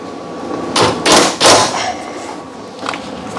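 An impact wrench tightens a shock bolt on a Samsung washer in three short, loud bursts close together, followed by a quieter trailing rattle.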